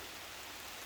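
Steady rain falling outdoors at night, a dense, even hiss with no breaks or distinct drops.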